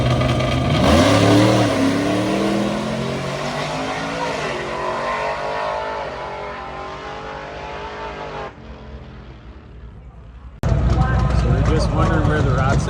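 A Mustang race car set up in race mode revs hard at a street-car competition. The engine climbs through rising harmonics loud and close for several seconds, drops away, then roars back abruptly. Talk runs underneath.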